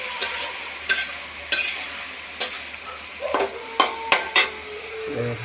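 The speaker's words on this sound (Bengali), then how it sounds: "এখন দেবো আদা বাটা। এটা ঢেলে দিই।" Ginger paste goes into a hot pan and is stirred with a utensil, giving a faint sizzle under a run of sharp scraping knocks against the metal, about a dozen irregular strikes spread across the stretch.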